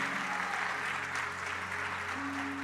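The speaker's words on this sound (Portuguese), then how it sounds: "Pode aplaudir o Senhor, porque Ele é digno." A church congregation applauds in worship, dense steady clapping over sustained low musical tones, continuous and fairly close for the whole stretch.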